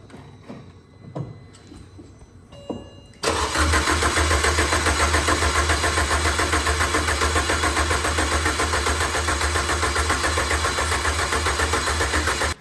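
A freshly rebuilt race engine cranks at first start-up, a few faint knocks and clicks giving way to a loud, steady churning drone that holds close and unbroken until it cuts off abruptly.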